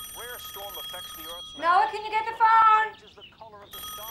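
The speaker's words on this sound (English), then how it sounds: "Mom, the phone's ringing, do you hear it?" A telephone rings in a home, an electronic ringing tone with two bursts of trilling tones in the middle, alongside a voice and a television playing in the room.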